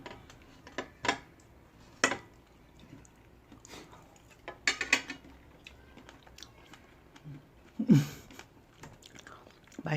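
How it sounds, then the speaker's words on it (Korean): Close, sporadic bites and chewing of a fresh strawberry, soft juicy crunches with a few sharper bite transients spread over the clip and faint background murmur. "딸기를 일단 생딸기 한번 먼저 먹어볼게요."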